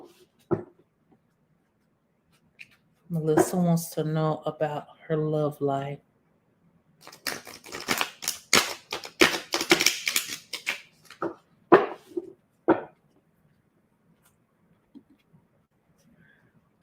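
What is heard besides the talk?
tarot cards being shuffled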